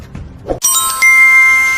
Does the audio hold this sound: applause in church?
no